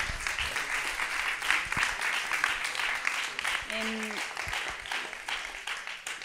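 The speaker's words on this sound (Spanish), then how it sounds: "Un aplauso." Steady applause from an audience at a water-themed conference session, sustained clapping at moderate volume with a brief tonal sound partway through.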